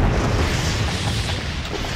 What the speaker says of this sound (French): les explosions, c'est le moyen le plus simple de les attirer, donc petite dernière